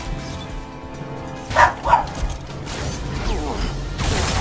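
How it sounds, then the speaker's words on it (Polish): A dog in the video game Alien Rage gives two sharp barks close together, loud over a low game background with mechanical rumbling, followed by a rough noisy burst. "Głupi pies."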